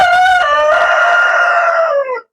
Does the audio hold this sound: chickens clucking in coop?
yes